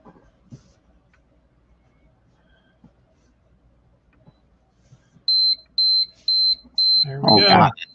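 A timer beeps, five evenly spaced high-pitched bleeps close by in an otherwise quiet room, and a voice cuts in at the end.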